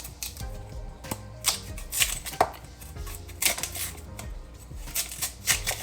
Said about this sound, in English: So I'm gonna peel the cassava and peel the plantains